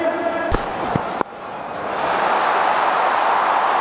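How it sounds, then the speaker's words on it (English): A packed cricket stadium crowd at the IPL final between RCB and Punjab roars, a few sharp knocks at first giving way to a steady, loud wash of crowd noise with commentary speech over it. "A lot of noise today in this crowd."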